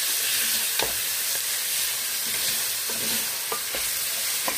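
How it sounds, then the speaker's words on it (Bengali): Spiced vegetables and a little meat being stirred in a hot pan: a steady oil sizzle with scraping strokes of the spoon against the metal every second or so, close and fairly quiet. "মশলাগুলো দেওয়া শেষ, এখন আমি নেড়ে নিব ভালোভাবে।"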